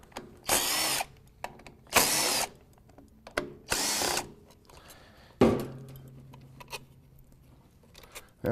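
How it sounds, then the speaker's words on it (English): A power tool backs valve body bolts out of a transmission case in several loud, close bursts of whirring, separated by short pauses. A metallic clank follows, leaving a low ringing hum. "Okay, let's finish taking the bolts out here."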